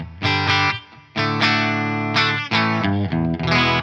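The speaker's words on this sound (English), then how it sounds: "Nice and clean, bit of stereo reverb on there." Electric guitar runs through a Yamaha GW10 multi-effects unit into a clean Boss amp model with stereo reverb. Loud sustained chords ring out in four or five separate strums, each decaying briefly, with no talking.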